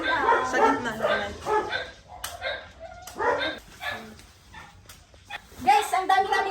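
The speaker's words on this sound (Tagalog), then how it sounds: "Ang ingay ng mga aso dito na sa bahay." Dogs bark and yip at home in Indang, Cavite in short, scattered bursts, mixed in with people talking nearby.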